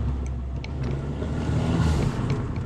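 A Fiat 500 Abarth Stage 2 in sport mode, fitted with a 200-cell sport catalytic converter and the stock exhaust line, gives off a steady, moderately loud low exhaust rumble close by, with no voices.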